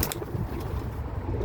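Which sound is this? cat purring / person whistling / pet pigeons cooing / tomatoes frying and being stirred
pet pigeons cooing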